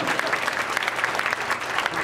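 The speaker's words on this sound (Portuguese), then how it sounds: "Salva de palmas." A live audience at a stage hypnosis show gives a brisk round of applause, dense and loud, with many hands clapping at once in a short burst.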